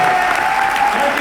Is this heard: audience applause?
yes